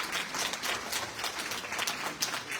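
Steady applause from a crowd in a session of the San Luis Potosí state congress, dense clapping sustained evenly throughout without pause.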